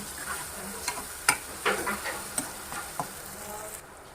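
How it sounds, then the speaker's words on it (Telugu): Onions frying in a pan with ginger-garlic paste for a meal maker curry, a soft steady sizzle broken by a string of light stirring scrapes and taps, close and quiet, with no talking. "ఆనియన్స్ మంచిగా ఫ్రై అయ్యాయండి"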